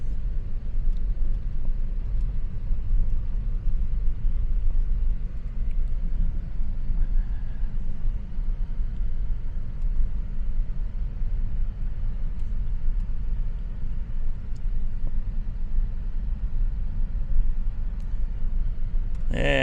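Low, steady rumble from inside a vehicle driving slowly through an RV park, a constant engine and road drone that stays even from start to finish with no clear talk.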